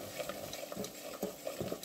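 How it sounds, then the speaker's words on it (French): Butter melting in a saucepan, soft scraping and stirring with a gentle sizzle, quiet and close, in short irregular strokes with no talking. "J'attends que le beurre soit bien fondu aussi également."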